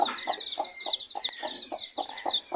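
Hens cluck in a rhythmic series of short, close calls beside a pen of eight newly hatched chicks on a small farm, with faint high peeping from the chicks running steadily underneath.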